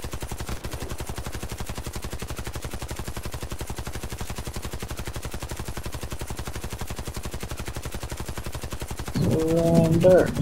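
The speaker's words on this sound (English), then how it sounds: "Gun is just shooting." Rapid automatic gunfire from a gun in the video game Warface, a fast, even, unbroken stream of shots held for about nine seconds, with a short burst of other game noise near the end.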